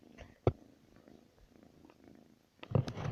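A house cat purrs softly up close in a quiet room, a low faint rumble broken by a couple of brief rustling bumps and a louder shuffle near the end.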